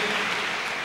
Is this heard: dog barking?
no